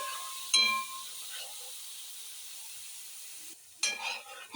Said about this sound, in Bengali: তেলের মধ্যে এখন একটু